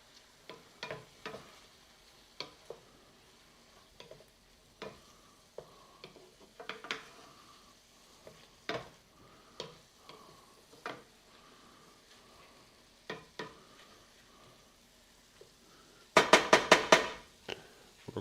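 Garlic sizzles in a pan during meal prep for chicken gnocchi or jambalaya, with scattered scraping stir clicks throughout and a louder burst of rapid clatter near the end.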